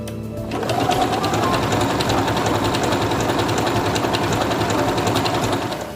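A Singer Quantum Stylist 9960 sewing machine starts up and stitches a mirrored decorative pattern, a loud, steady motor whir with rapid rhythmic needle chatter running nonstop after a brief start, close by with no talking.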